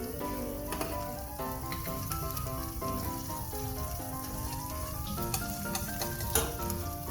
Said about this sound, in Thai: ผัดใส่น้ำมันสักเล็กน้อยนะครับในกระทะแล้วก็เอาพริกแกงที่เราได้นะลงผัดนะครับ